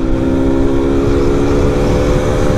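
Motorcycle accelerating hard in fifth gear at near top speed on a road, a steady loud engine drone with sustained harmonic whine and wind rush throughout, no voices.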